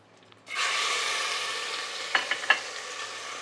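Ginger and shallot paste hits hot oil in a pan and sets off a loud, steady sizzle, with a few sharp crackles and stirring clinks near the end.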